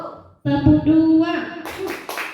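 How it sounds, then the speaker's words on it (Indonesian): A group of people at a school workshop claps twice in unison, two sharp, close bursts right after a spoken instruction. "Tepuk dulu 2 kali."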